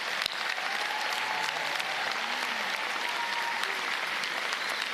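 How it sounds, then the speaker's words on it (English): A crowd at a Whitireia and WelTec graduation ceremony gives graduates a full round of sustained, even clapping, loud and continuous throughout. "Can we give them all a big round of applause?"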